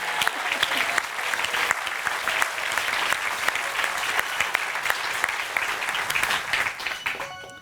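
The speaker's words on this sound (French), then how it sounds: "Ovation." Audience giving an ovation at a live music performance, dense sustained clapping from a large crowd, loud and continuous before tapering off at the end.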